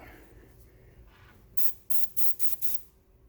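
An airbrush shoots Tamiya LP-51 Pure Orange paint at 20 psi in five quick, sharp hissing bursts after a quiet stretch of faint background hum.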